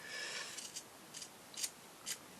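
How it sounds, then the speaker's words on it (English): Scissors snipping cotton wire while trimming a sugar-paste hellebore flower, several sharp close snips spaced apart over quiet background hiss. "Might be better using my bigger scissors."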